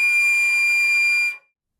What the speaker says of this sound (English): to finger a D natural in the 4th octave